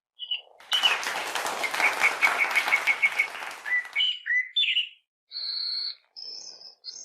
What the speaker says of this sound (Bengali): সবাই মিলে মুক্তার জন্য একবার হাততালি দিন।